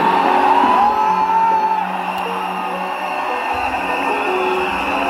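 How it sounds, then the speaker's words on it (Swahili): A church congregation cheers and ululates during worship, with a high warbling trill early on over a steady roar of voices that stays loud throughout. "Pigia Yesu shangwe na vigelegele"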